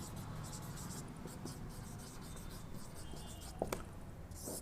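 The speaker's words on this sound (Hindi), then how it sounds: "यहाँ पर मैं लिखता हूँ गेज प्रेशर।" Pen or marker writing out a physics definition of gauge pressure on a board, faint steady scratching strokes with a couple of small taps near the end, heard alone at low level.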